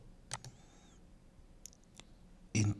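A few crisp computer mouse clicks, faint and sparse against a quiet room, with one louder click burst at the end.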